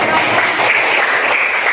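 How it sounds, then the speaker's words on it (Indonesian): Loud, dense clapping from a class applauding a student presentation group, a brief continuous burst that fills the whole moment. "Beri tepuk tangan yang meriah kepada"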